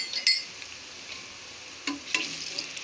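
Chicken and potatoes frying with garam masala while being stirred: a soft sizzle with a few brief utensil clinks against the pan, close and fairly quiet, with no speech.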